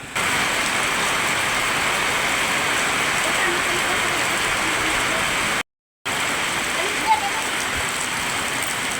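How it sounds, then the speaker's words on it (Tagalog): Steady, loud rush of a flooded, overflowing creek in typhoon rain and wind in Romblon, a dense continuous roar with a brief dropout midway. "bilis tumaas ng tubig dito sa sapa"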